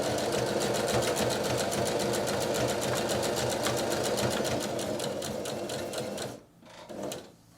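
A sewing machine runs a zigzag stitch on a poplin face mask, a close, rapid, even mechanical chatter that continues steadily, then stops abruptly with a brief final whir.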